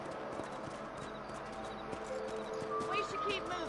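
Horse hooves clip-clop in a steady rhythm in the video game Red Dead Redemption, moderately close, with a voice talking alongside.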